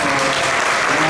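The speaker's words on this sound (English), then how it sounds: "Let's give a bigger round of applause" Loud, dense applause from a lecture audience at an ISKCON temple in Toronto, a continuous roar of many hands clapping close by, with no talk over it.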